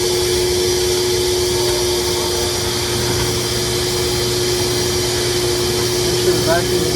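A vacuum seeding machine in a greenhouse runs with its vacuum switched on, giving a constant, even whooshing hum with a steady whine, loud and unbroken throughout.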